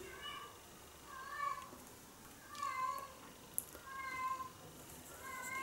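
A domestic cat yowls loudly in a repeated pattern, with long drawn-out meows rising and falling roughly every second or so, close by against a quiet room.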